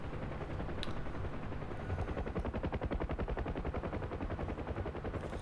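A UH-1H Huey door gunner's machine gun fires in a flight-simulator game, a continuous rapid rattle of evenly spaced shots over the droning thump of helicopter rotors, loud and close.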